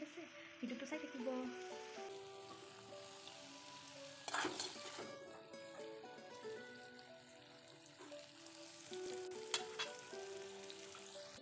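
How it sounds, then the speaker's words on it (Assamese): Spices tempering in a little hot oil in a kadai, a soft continuous sizzle and crackle with occasional sharper pops, close and fairly quiet throughout. "এতিয়া ফুৰণখিনি ভালকৈ ফুটিব দিছোঁ"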